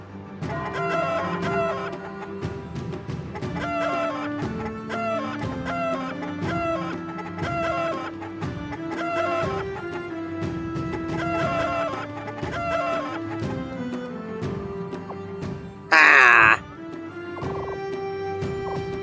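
Chickens clucking inside a video game, short repeated clucks and squawks running throughout over looping game music, with one brief loud burst near the end.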